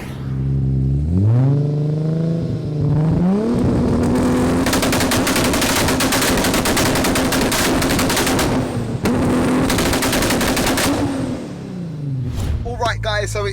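A 1100 bhp stroker Audi RS4 B5 accelerates hard up through the gears, its loud engine note rising in pitch with crackling, gunfire-like bursts from the exhaust sustained for several seconds before easing off.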